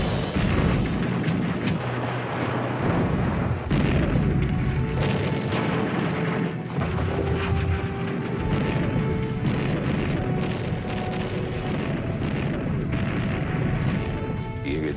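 Naval battle off Guadalcanal in November 1942: loud, continuous artillery fire and shell explosions booming and crashing one after another.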